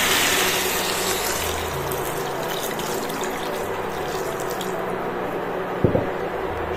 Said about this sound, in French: Et on va couvrir d'eau.